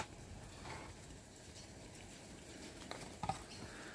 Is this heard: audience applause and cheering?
no